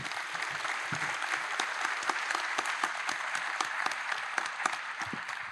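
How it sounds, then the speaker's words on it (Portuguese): A conference audience claps at the close of a plenary session of a Brazilian architects' congress. The applause is dense and steady and continues evenly for about five seconds, with sharp individual claps standing out near the listener. "uma salva de palmas para todos eles"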